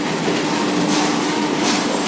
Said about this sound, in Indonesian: masuk ke kereta ya. Kereta ini ya. Lori.